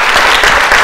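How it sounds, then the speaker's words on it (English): Applause from a conference audience in an auditorium after a talk, a loud, dense burst of clapping lasting under a second. "So give a round of applause for them."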